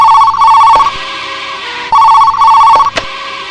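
A telephone rings twice, with two loud, trilling bursts separated by a short pause and no talking.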